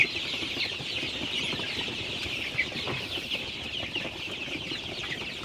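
A flock of Sonali super hybrid chicks eating feed, a steady bed of soft peeping and pecking clicks with occasional clucks, close and continuous.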